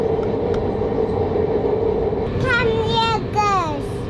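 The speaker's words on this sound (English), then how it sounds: "I decided to take my family first time on a train adventure" Steady low rumble of a passenger train travelling toward Tainan, a continuous rolling drone that fills the whole stretch, with a child's chatter rising over it near the end.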